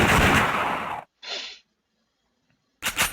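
Gunfire from the Xiao Xiao stick-figure flash game: a loud, dense crackling burst at the start, a shorter shot or impact after a pause, then another sharp burst at the end.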